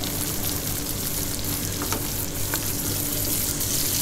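Shrimp, sliced onion and whole cumin seeds sizzle in a hot pan, a dense continuous frying crackle close by with faint stirring ticks, no voices.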